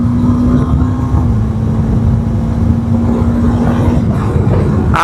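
A TVS Apache RTX300 motorcycle launches and accelerates, a loud, close engine drone with a steady tone that steps down briefly as a gear changes, then climbs again and rises sharply at the very end.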